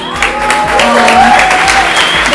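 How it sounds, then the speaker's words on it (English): A crowd applauds steadily at a typography talk, with dense, even clapping that stays loud and close for the whole stretch, and a few voices mixed in. "I would like you to give like a really strong clap to them again"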